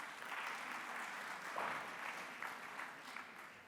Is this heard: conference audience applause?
yes